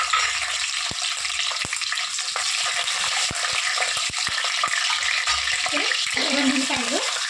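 Green chilies for boti curry fry in a hot kadai with a loud, steady hissing sizzle, broken by sharp crackling pops, and a brief voice heard near the end.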